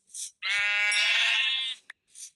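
A sheep bleating in the Minecraft video game: one long, close, wavering bleat framed by short breathy bursts before and after, with silence between.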